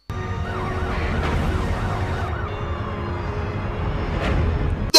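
An ambulance siren wailing at the scene of a crash, its rising and falling tone clear over low traffic rumble and steady for a few seconds.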